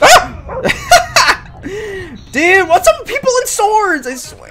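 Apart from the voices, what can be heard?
dog barking in a video game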